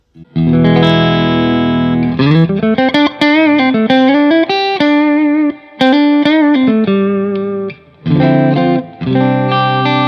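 Electric guitar plays sustained chords and bending notes through a BluGuitar AMP1 amplifier on its clean channel, no boost, with reverb, recorded direct, with a lingering reverb tail and brief pauses between phrases.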